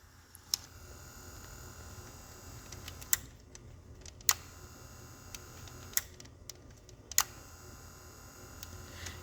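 A faulty tape deck mechanism that won't play tapes strains to move, giving off a few sharp, scattered clicks and ticks at irregular intervals over a quiet, steady background hum.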